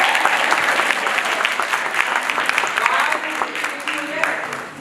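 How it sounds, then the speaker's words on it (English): Audience applause at a school assembly, dense steady clapping from a large crowd for nearly five seconds, easing slightly at the end. "Give him a round of applause."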